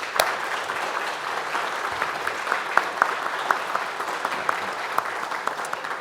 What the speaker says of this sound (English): will you join me in giving them a round of applause?